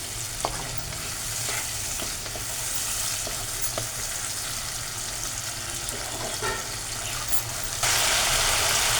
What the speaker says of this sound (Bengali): এক চামচ লাল লঙ্কার গুঁড়ো এক চামচ জিরে বাটা হাফ চামচ ধনে বাটা আগে এটাকে আমি কষিয়ে নেব